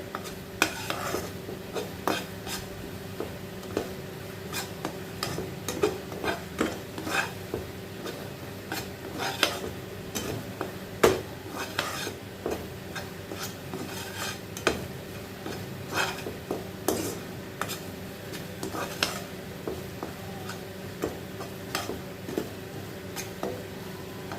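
Cabbage mash is stirred in oil in a pan, giving a steady run of scraping spoon strokes and small clinks of metal against the pan, with a faint sizzle beneath and no talking.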